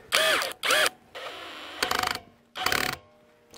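Metal wrench turning on a threaded gas hose fitting, giving four separate bursts of close ratcheting and grinding clicks with short pauses between them.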